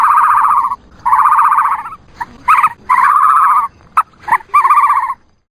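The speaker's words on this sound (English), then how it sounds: "You heard an ostrich." Ostrich calls in a series of loud, close, booming hoots, several sustained bursts broken by short gaps and a few brief clipped notes, with no talking.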